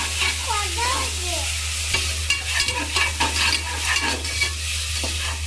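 Ginger garlic paste ground with mint leaves fries and sizzles in a pot for chicken green biryani while a spoon stirs and scrapes irregularly; a low hum runs underneath and faint voices pass briefly early on.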